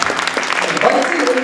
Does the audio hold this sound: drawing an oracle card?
no